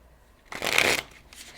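Chakra cards are shuffled for a self-care tarot reading in a single close, crisp riffling burst of about half a second, with quiet before and a faint rustle after.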